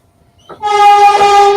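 A passing train sounds its horn in a long, loud, steady blast that starts abruptly after a brief quiet moment and holds to the end, close by.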